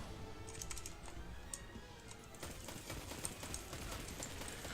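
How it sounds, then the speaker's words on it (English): Typing on an Alla Excalibur SI-881 mechanical gaming half keyboard makes rapid, irregular clicky keystrokes close by over a steady background hum during PC play of Destiny 2. "mechanical gaming half keyboard."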